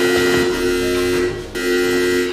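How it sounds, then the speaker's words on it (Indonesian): A loud electronic buzzing alarm sounds in a post-apocalyptic film, a steady harsh tone that breaks off for a split second and then resumes, with no voices. "tiba-tiba alarm yang mereka pasang berbunyi"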